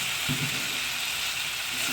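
New potatoes and peas for aloo dum cook in a pan with a steady, soft frying hiss, broken once early on by a brief low knock.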